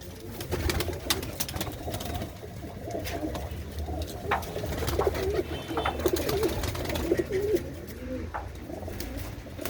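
Red Cheena pigeons coo in soft, repeated throaty phrases close by, layered over low background murmur and scattered clicks and flutters from the loft.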